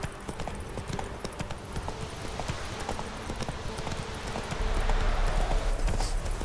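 In The Witcher 3, a horse's hooves clip-clop along a road in a steady trotting rhythm, moderately close over a soft outdoor ambience that swells slightly toward the end.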